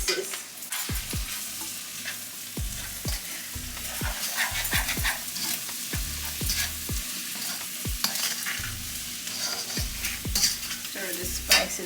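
A shrimp boil with sautéed ingredients in a pot sizzles steadily while a utensil knocks and scrapes at a regular rhythm, roughly a dozen thumps as spices are stirred in. The sound is close and moderately loud.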